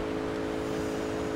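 Car driving in the video game GTA Vice City, a steady engine drone with a constant tonal hum, loud and even for the whole short stretch.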